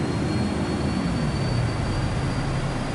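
A T-38 jet throttles up in a Microsoft Flight Simulator game, producing a steady, loud broadband roar with a low rumble and a thin high whine that runs unbroken throughout.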